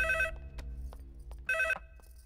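A telephone rings in two short electronic bursts separated by a pause, with a low background hum throughout.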